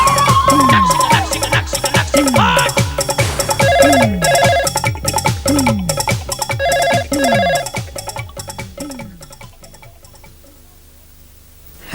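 An electronic ringtone chirps in a repeating melodic pattern, ringing steadily several times before cutting off and falling quiet.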